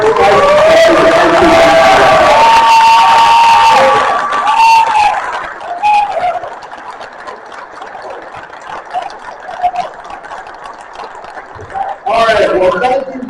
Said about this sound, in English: Alright, just stand up and clap